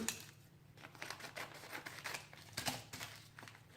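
Scissors snipping a coffee filter into fringe for a paper peony: rapid, quiet, repeated crisp cuts in an uneven rhythm, close and alone.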